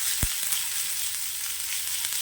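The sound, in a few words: sautéing tomato and grated coconut in a pan for mushroom gravy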